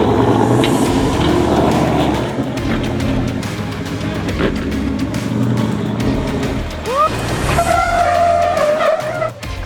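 A 4x4 off-road vehicle with front and rear differential lockers engaged creeps slowly downhill, its engine droning loud and steady with tyres grinding and a brief squeal near the end.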